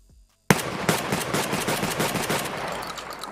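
Shotgun fire in a video game, opening with a sharp loud blast after brief quiet, followed by rapid repeated shots and echoing rattle that slowly tails off.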